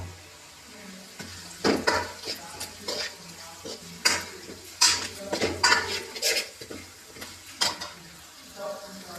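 Curry leaves, salt and onions are stirred in a pan while cooking potato bonda, with a spoon scraping and clinking against the metal in irregular strokes over a soft sizzle, close up and without speech.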